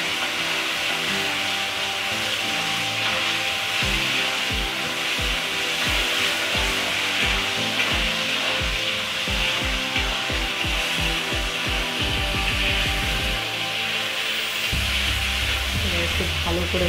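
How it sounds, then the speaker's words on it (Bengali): Potatoes frying and sizzling in a pan with tomatoes, salt and a little sugar for a Dooars-style potato curry, a steady broadband sizzle running throughout with rhythmic stirring scrapes over it. "ভালো করে ভেজে নিচ্ছি।"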